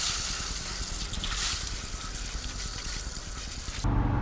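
Water sprays and splashes steadily over race car wheels being washed, a dense close hiss that runs continuously before cutting off abruptly near the end, with no talk.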